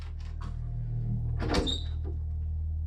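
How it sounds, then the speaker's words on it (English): A door handle rattles and shakes as if someone were trying to open the door, with a brief sharp clatter in the middle over a steady low background hum. "the door handle of his room just started randomly shaking, as if someone was trying to open the door"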